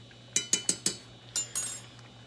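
A spoon clinks against a pot while stirring rice for Mexican rice, with four quick evenly spaced metallic taps followed by a couple of scraping clinks, close and fairly crisp.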